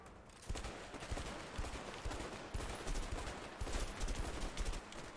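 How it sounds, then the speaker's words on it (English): Rapid bursts of gunfire from a gun in the video game A Way Out, loud, dense, repeated volleys rattling on over several seconds with no talking. "But this gun is definitely a little easier to use."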